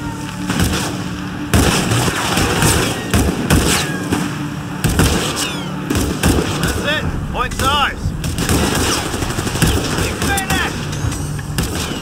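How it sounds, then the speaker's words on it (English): Rapid gunfire and explosions from the video game Company of Heroes 3, with a US mechanized battlegroup in combat, crackling continuously and loudly under excited shouted voices throughout. "They're shooting at you!"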